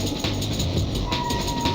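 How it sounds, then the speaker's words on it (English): Tram ride in Splinter Cell Pandora Tomorrow, a steady rumbling rattle of a rail car in motion with brief clanks and a faint tonal hum. "maybe the worst tram ride I can think of in video games"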